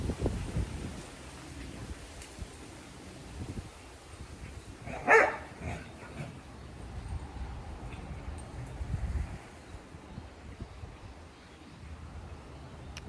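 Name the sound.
dogs barking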